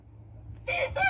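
A rooster in a backyard chicken coop crows loudly and close, a single harsh cock-a-doodle-doo rising out of low background hum in two quick bursts.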